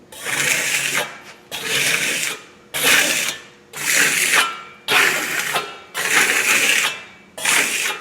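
A trowel sweeps over eco stucco on a wall in seven evenly spaced rasping strokes, each about a second long with brief pauses between, close and fairly loud with no talking.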